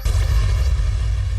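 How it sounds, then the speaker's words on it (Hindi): Fireworks set off by party workers at a political gathering give a loud, continuous rumbling boom with deep low-end weight that fills the whole moment. "वर्कर्स की जानिब से आतिशबाजी का मुजाहरा।"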